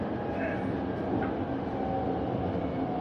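A Chengdu metro train runs through its tunnel with a steady, loud, continuous rumble and hiss from inside the spacious carriage.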